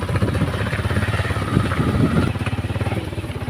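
A motorcycle engine idles close by with a rapid, regular chugging pulse, loud and steady throughout, its rhythm briefly blurring midway.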